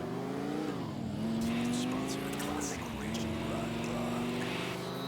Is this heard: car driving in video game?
yes